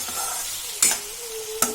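Brinjal frying with curry leaves in a pan, a dense steady sizzle with two quick spatula scrapes against the pan, close and alone without voices.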